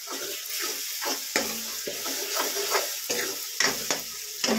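Steady sizzling of spices tempering in hot oil for turnip greens, with occasional stirring clinks and scrapes, close by and fairly loud throughout.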